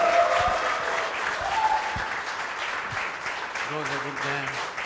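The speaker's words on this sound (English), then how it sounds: "ladies and gentlemen, one more round of applause for an absolutely incredible final." An audience applauds after a 10-ball pool final, a steady wash of clapping that holds throughout, with a voice speaking over it.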